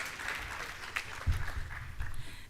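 Conference audience applauding at a Caribbean Maritime University industry session, a steady wash of many hands clapping that swells slightly midway and continues throughout without voices on top.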